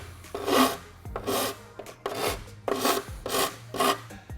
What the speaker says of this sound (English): we're going to do a little bit of filing to make sure that it fits perfect